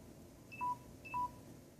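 Two short electronic alert beeps from a phone, each a bright two-tone chirp, sounding about half a second apart, faint and fairly close in a quiet room during fly tying.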